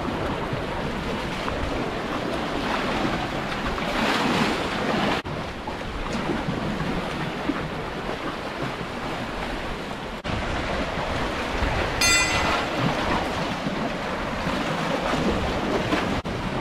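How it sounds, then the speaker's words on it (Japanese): Strong ocean waves surge against a tetrapod breakwater at Saganoseki as a typhoon approaches, with heavy wind buffeting the microphone in a loud, continuous roar and no talking. "ちょっと波が強いな。"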